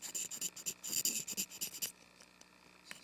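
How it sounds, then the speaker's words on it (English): A cane oboe reed being scraped with a knife through the blend area, a quick series of close, dry rasping strokes in an uneven rhythm, then quieter faint scratches near the end. "I'll scrape a little bit through the blend."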